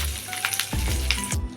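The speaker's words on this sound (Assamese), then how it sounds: "মাছ ভজা তেলখিনিতে মই এয়া গোটা জিৰা দি দিছোঁ আৰু ক'লা জিৰাটো মই দি দিছোঁ" Whole cumin and black cumin seeds crackle and sizzle as they hit hot leftover fish-frying oil in a home kitchen pan, a steady close frying hiss with small pops and a few clinks of a utensil.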